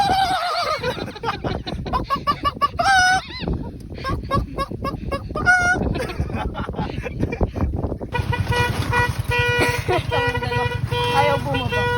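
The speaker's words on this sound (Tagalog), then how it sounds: "Bundok may manok." A chicken on a mountain crows and clucks in a few short, wavering calls, heard partly under lively talk and background noise.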